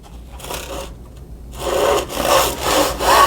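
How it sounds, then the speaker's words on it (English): A hand saw cuts through a clamped pine shiplap board, guided along a speed square. Rasping strokes grow louder and steadier as the cut progresses, with no talking. "I'm also going to use a clamp to hold this in place while I cut."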